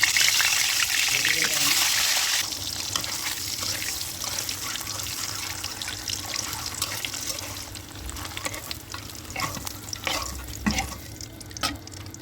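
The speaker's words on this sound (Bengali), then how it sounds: "ডিমটা ভাজা হয়ে গেছে," An egg sizzles and crackles in a hot pan on the stove, a loud, steady fry with scattered pops and scrapes, easing slightly after the first couple of seconds.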